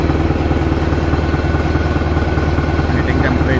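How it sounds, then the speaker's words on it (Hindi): Ace Stoker AF50D furnace stoker engine running steadily, a loud continuous mid-pitched engine drone with even pulsing, heard close up while someone talks over it. "तो अभी हमारा इंजन चालू है"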